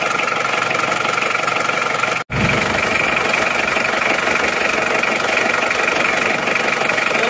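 A cold engine, not yet warmed up and starting to emit smoke, runs at a steady idle, a constant loud drone with a faint knocking rhythm, cutting out for an instant before resuming.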